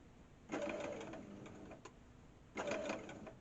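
A domestic sewing machine stitching fabric in two short bursts, each about two seconds, with a quiet pause between; close, rapid mechanical whirring and needle clatter.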